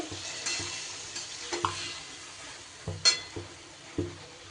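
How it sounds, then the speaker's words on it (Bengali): Mixed vegetables for a labra-style dish are stirred into a hot spice tempering, giving a steady soft sizzle broken by repeated close scraping and knocking of a spatula against the pan. "দিয়ে এবার ভালো করে ফোড়নটা মিশিয়ে নিতে হবে সবজির মধ্যে।"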